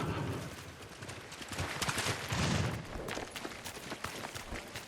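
Horses' hooves in Ghost of Tsushima, a busy clatter of many hooves moving together, fairly close and steady, with faint voices underneath.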